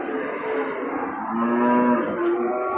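An albino female water buffalo at a livestock market gives a long, loud, close moo that wavers in pitch, with faint market background behind it.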